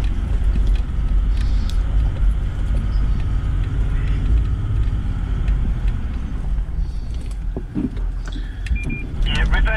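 A 4WD vehicle grinds along a muddy bush track in the rain, its engine a steady low rumble from inside the cabin, with scattered clunks and rattles and a driver talking throughout.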